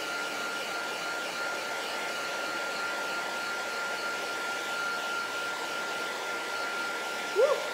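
A hair dryer dries a homemade craft project with a steady, even, airy whoosh that runs unbroken throughout and is fairly close. A brief tonal blip sounds at the very end.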